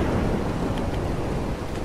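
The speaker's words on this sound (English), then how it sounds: "goddamn rain." Steady rain hiss with a low rumbling thunder bed in the game Ark Survival Evolved, loud and continuous with no talking.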